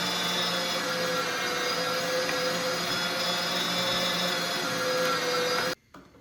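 A motorized grinder runs loud and continuous as rabbit meat is ground for boudin sausage, a steady droning whir that cuts off abruptly near the end, leaving quiet room tone.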